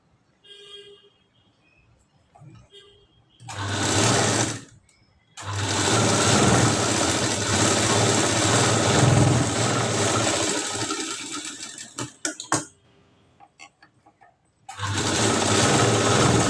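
A sewing machine stitches a katori blouse seam. It runs close and loud: a brief burst, then a long continuous run of about six seconds with a faint rattle as it stops, and another run at the end.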